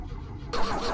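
The 1974 VW Beetle engine is cranked and briefly catches, and a low rumble swells into a louder, rougher burst partway through the short moment.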